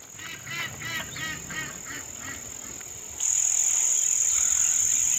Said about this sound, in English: I have the ducks out free ranging right now